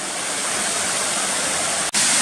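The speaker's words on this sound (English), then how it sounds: "Another little waterfall here." A small waterfall on the Sand Run Falls hike, a loud, steady, broadband rush of falling water heard up close, briefly cut by a split-second dropout near the end, without talk.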